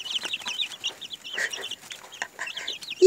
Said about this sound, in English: You crazy chickens!